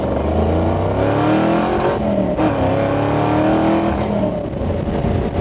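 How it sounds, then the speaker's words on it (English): A 1967 Ford Mustang Eleanor with a 363 stroker engine accelerates through the gears, its loud engine roar climbing in pitch, dropping briefly at each shift and climbing again, heard from inside the car without talk. "Oh darn, I get to go through the gears again."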